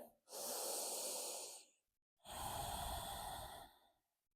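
Two long breaths taken up close during a post-workout shoulder and neck stretch, a steady airy inhale then a fuller, rushing exhale, with no speech over them.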